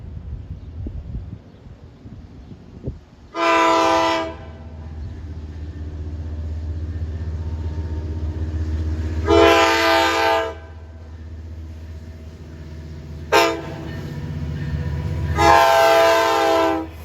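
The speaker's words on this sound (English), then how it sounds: "Let's listen to this greatest of the greatest K5 LA horns on the Long Island Railroad" A Long Island Rail Road train sounds its K5LA air horn in several loud chord blasts, about a second or two each with one very short toot, over a constant rumble of the passing train.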